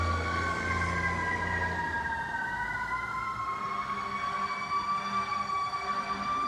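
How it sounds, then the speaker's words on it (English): A fire truck tanker's siren wails loud and steady, its rising and falling tones sweeping continuously as the truck approaches on a street with parked cars, with traffic rumble beneath. "Here comes fire truck."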